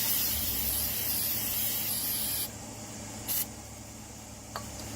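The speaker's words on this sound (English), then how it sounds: "I'll spray it again a little bit more before I brush it." Paint remover is sprayed from an aerosol can onto a Glock pistol in a long, loud, close hissing burst, then stops. Two short, quieter spritzes follow.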